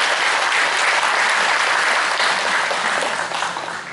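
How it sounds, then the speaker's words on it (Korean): An audience claps loudly and continuously at a public gathering, a dense wash of applause that tapers slightly at the end. "큰 박수 한번 보내주시면 감사하겠습니다."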